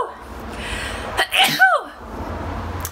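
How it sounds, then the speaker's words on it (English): One sharp sneeze, close and fairly loud, with a short breathy intake just before it, in a quiet room with low background noise. "have to sneeze first"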